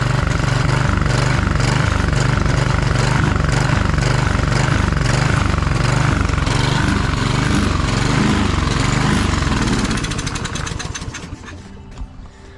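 A walk-behind trimmer engine with a carburetor fuel problem runs loudly and close by, its speed rising and falling in a rhythmic surge before it winds down and sputters toward the end.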